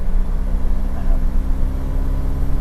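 A 1999 Nissan Frontier pickup engine runs at a steady low idle close by, a continuous hum and rumble throughout the brief stretch.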